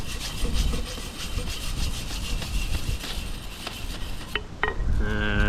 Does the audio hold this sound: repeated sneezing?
no